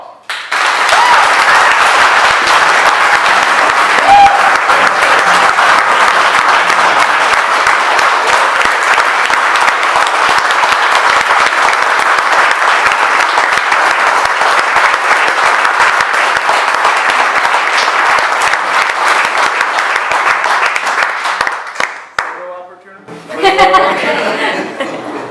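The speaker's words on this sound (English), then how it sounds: "Let's have a round of applause." An audience at an Army retirement ceremony applauds at length, a loud sustained wash of clapping with scattered laughter, fading near the end before a short burst of voices and renewed noise.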